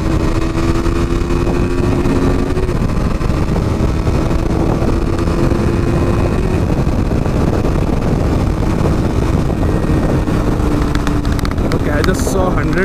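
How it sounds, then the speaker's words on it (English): KTM motorcycle engine pulling hard at speed, a steady loud drone with wind rushing over the microphone throughout, the engine tone rising slightly as it accelerates. "Let's see how fast this bike goes."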